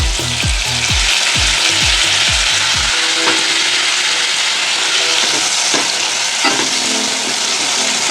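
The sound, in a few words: stirring sponge gourd curry with poppy seed paste in pan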